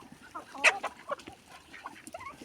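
Backyard hens clucking near their laying spot, a few short soft clucks and one sharper call over quiet farmyard background.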